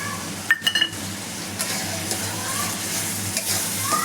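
Chilli powder, onion-garlic masala, coriander and cumin powders sauté in a pan for rajma, giving a steady close sizzle broken by scraping stirs and a few quick metallic clinks of the spoon.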